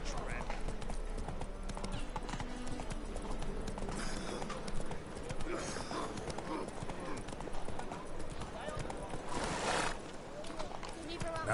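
Hoofbeats of Roach, the horse in The Witcher 3, clip-clop steadily through the whole stretch in a busy game mix, with music, ambience and talk over the running gait.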